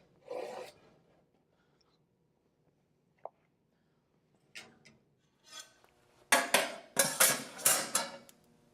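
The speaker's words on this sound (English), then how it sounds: "I can use my angle brush here to get between the burner tubes and scrub the bottom of the pot a little bit" Stiff angle brush scrubbing the bottom of a commercial fry pot between the burner tubes: a few scattered scrapes early on, then a run of loud, rapid rasping strokes near the end, with no talk.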